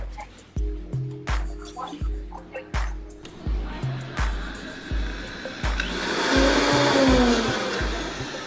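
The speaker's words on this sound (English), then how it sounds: "Do you ever talk to the blender when you use it?" A kitchen blender blitzes spinach hazelnut pesto, first in about a dozen sharp, evenly spaced pulses, then in a continuous whirring run that grows louder and strains toward the end.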